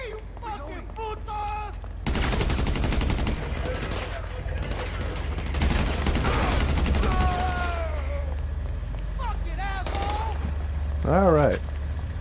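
Rapid bursts of automatic gunfire and fusillades from a GTA Online firefight, loud and dense with sharp repeated shots, over a steady low rumble, with people talking and game voices around the shooting.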